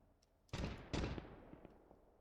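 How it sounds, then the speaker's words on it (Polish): Two sharp, booming blasts go off in quick succession in the video game Call to Arms - Gates of Hell, fairly faint and distant, with a few smaller pops trailing after them. "chyba tam coś dalej wybucha"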